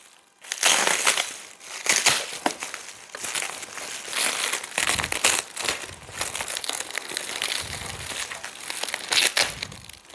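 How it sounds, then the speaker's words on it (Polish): Packing tape is peeled and ripped off a piece of cardboard holding hydrangea plants, a long run of loud, close crackling and tearing with brief pauses. "Uwaga, będzie odrywanie taśmy."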